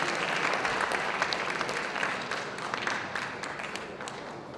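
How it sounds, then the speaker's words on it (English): An audience at an awards ceremony applauds with dense, sustained clapping in a large room, heard at moderate distance and fading slightly toward the end. "Another round of applause"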